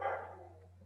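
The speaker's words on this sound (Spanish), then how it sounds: "los perros ya ladran" A single dog bark, fairly faint and a little distant, quickly fading over a steady low electrical hum, with no other voices.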